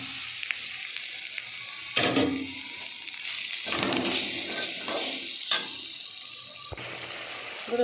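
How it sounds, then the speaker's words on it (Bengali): Tomato, chilli powder and turmeric powder hit hot frying spices in a pan, producing a steady, loud sizzle with bursts of sharper hissing and occasional stirring knocks, close and continuous throughout. "এবার আমি টমেটো আর লঙ্কার গুঁড়ো হলুদ গুঁড়োটা দিয়ে দেবো"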